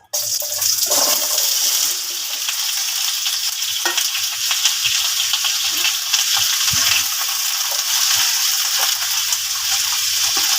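Potatoes and carrots hiss and sizzle loudly in hot oil for a Filipino-style chicken curry, a steady dense frying roar with occasional stirring clinks and bubbling.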